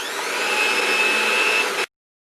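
A hand mixer fitted with dough hooks whirs steadily through cookie dough, a loud, continuous motor drone that runs for nearly two seconds before cutting off abruptly into silence.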